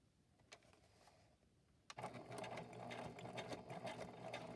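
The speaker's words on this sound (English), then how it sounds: "now what I want to do is go ahead and sew here on this side too, all the way down." After a quiet start with a small knock, a sewing machine starts up and stitches a project cover in a fast, steady, close whir that runs to the end, with no talk.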